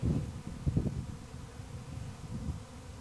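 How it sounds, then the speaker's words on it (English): A swarm of honeybees, with drones among them, flying around a person in a backyard near grapevines, giving a steady low buzzing drone with a few louder swells as bees pass close, alone without talk. "I'm walking amongst the bees, but they're more interested in finding a place to land."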